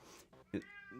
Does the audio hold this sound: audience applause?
no